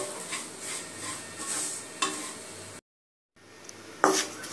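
Semolina (rava) roasts in a pan under repeated scraping stirs and a faint sizzle, broken by a short silent gap, then resuming with a sharp utensil clink against the pan.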